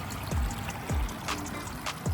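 Small cascades in a micro-pond trickle and splash softly, with a steady low water hiss and a few recurring drips and plops at a modest level.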